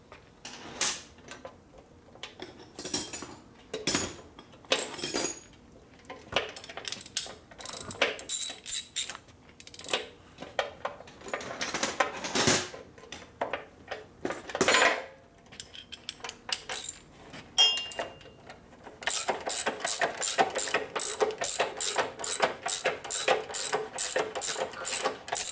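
A ratchet with an Allen socket works on bolts while a fender is remounted on a 1974 Harley shovelhead 74ci FX bobber. It gives bursts of close metallic clicking, first scattered, then turning into steady rapid ratcheting.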